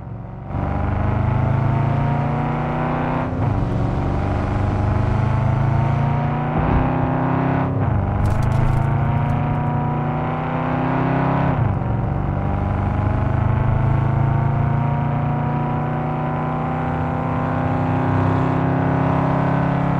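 A loud muscle car engine in Cyberpunk 2077 drones continuously with a gritty, distorted tone, pitch climbing and dropping through several gear shifts.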